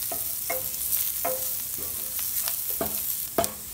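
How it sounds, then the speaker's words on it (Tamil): Masala with garam masala powder and green chillies sautéing in a pan for shredded chicken fry, steady sizzling frying beneath rhythmic scraping stirs of a spoon about every half second. "கரம் மசாலா பவுடர், அண்டு பச்சை மிளகாய் எல்லாம் சேர்த்து நல்லா வதக்கிடலாம்."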